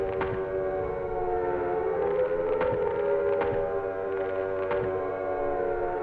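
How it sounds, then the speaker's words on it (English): A wailing, steady civil-defense style siren drones in the Silent Hill video game, loud and continuous throughout with faint clanks and thumps underneath. "We got the sirens"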